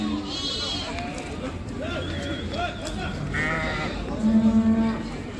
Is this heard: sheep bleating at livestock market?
yes